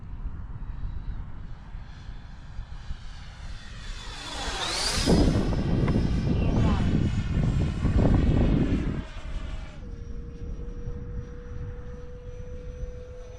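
An RC Freewing F-16 V3 jet in arctic camo makes a gear-up landing pass, its ducted-fan whine rising as it approaches, roaring loudly overhead with a falling pitch sweep, then fading to a steady distant tone.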